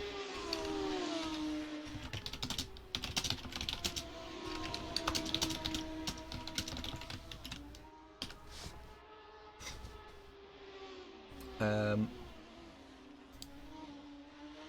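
Computer keyboard typing, a steady patter of fast keystrokes heard at moderate level over the hum of an F1 racing game's engine sound, with a brief louder burst near the end.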